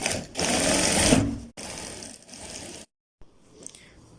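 Sewing machine stitching a kid's kurta sleeve onto the back piece, running in two steady bursts of whirring stitches separated by short pauses, then falling quiet with faint handling noise.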